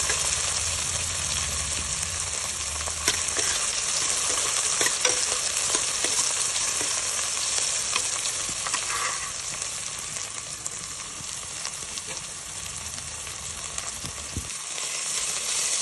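Capsicum sizzling and frying in hot oil in a pan for pulao, stirred continuously with scraping and clinking of a spoon, a steady close hiss throughout.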